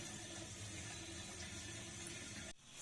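Carrots being washed in a sink give a steady, close rush of running and sloshing water that stops abruptly near the end.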